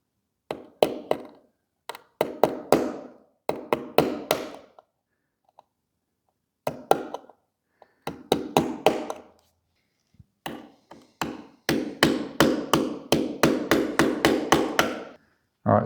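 Sharp chisel taps knocking at the plastic reflector inside a Panasonic TV, coming in close, loud clustered bursts of rapid knocks separated by short pauses, growing denser and more continuous toward the end.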